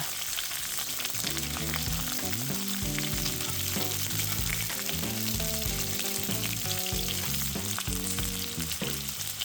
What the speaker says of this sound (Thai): กลับด้านด้วยนะคะ กุ้งเปลี่ยนสีแล้ว แต่ยังไม่สุกค่ะ